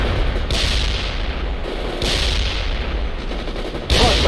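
Sustained machine gun fire in the PC real-time strategy game World in Conflict, dense and continuous with louder bursts near 0.5, 2 and 4 seconds, battlefield rumble underneath and no talk.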